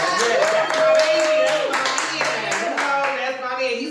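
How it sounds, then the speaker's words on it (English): An audience claps together at a podcast recording held in a venue, a steady patter of hands running throughout, mixed with voices and a faint tonal hum. "Let's clap it up for Black Love"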